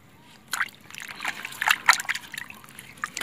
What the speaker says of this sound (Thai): นี่ล้างให้สะอาด